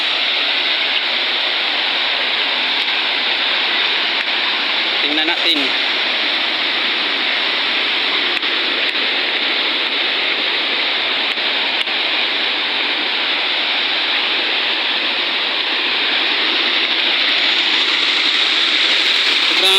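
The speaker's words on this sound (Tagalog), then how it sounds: "titingnan ko kung pumapasok na yung tubig sa sa tangke ng barangay Ugis" Water rushing steadily into a barangay water tank in Ugis, a continuous loud broadband wash with no breaks, and a brief spoken remark partway through.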